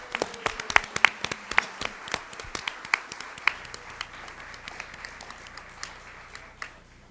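A round of applause fills a school governing board meeting room, with many hands clapping in a quick, irregular patter that starts full and gradually thins out to scattered claps.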